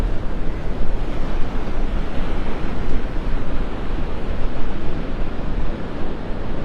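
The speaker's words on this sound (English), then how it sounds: "I bet those waves are crashing up against the old pier." Ocean surf breaking along the beach near the old Naples Pier in Florida, a steady, dense roar of waves mixed with wind buffeting the microphone, continuous and loud with no talk.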